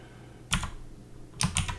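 Two short bursts of typing on a computer keyboard in an office setting, a quick cluster of key clicks followed by a longer run of several keystrokes, close and fairly quiet with no talking.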